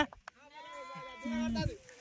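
A sheep gives one long, wavering bleat lasting more than a second, close and clear, after a few short knocks.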